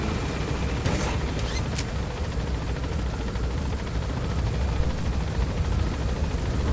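Helicopter rotor chop from the video game Metal Gear Solid V: The Phantom Pain, a steady loud whirring drone with dense low rumble held throughout, alongside a couple of brief sharp bursts early on.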